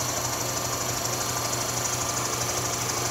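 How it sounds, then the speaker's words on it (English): A rebuilt Quincy 210 air compressor running steadily, a loud continuous mechanical drone with rapid even pulsing and no pauses. "I just wanted to show you guys this rebuilt compressor."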